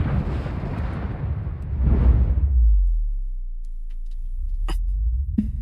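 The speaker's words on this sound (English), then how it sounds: "It's a crazy explosion" An explosion in The Expanse bursts in with a loud, broad roar that swells again, then collapses into a long deep low rumble that fades, with a couple of sharp clicks near the end.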